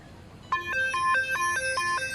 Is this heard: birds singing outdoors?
no